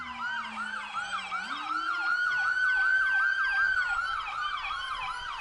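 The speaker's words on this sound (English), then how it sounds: "that's when they put the sirens and the horns off" An ambulance siren wails at a St. Patrick's Day parade in Savannah, loud and close with rapid repeating yelps over a steady high tone, while a lower horn note sounds and then slides upward near the start.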